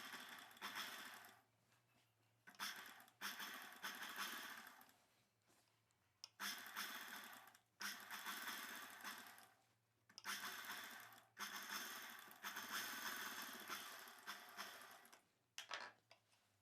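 A sewing machine with a single presser foot stitches invisible thread piping onto a boat neck dress, running in bursts of rapid, even chatter separated by short quiet pauses.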